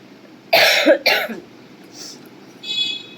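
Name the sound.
coughing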